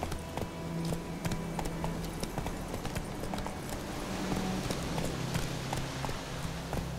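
Roach, a horse in the video game The Witcher 3, gallops with a steady, continuous stream of hoofbeat clip-clops over a constant background hum, with no voices.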